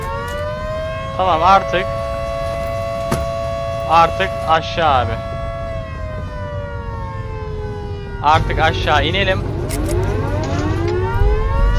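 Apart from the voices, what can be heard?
sirens wailing in video game Volcanoids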